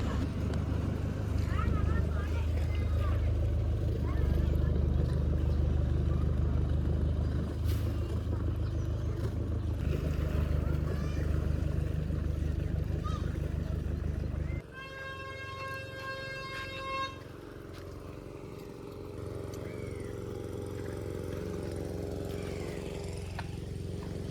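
A school boat's engine chugs on the Kuttanad backwaters, a loud steady motor drone that drops and changes pitch midway as the boat slows on arrival, with a voice talking over it.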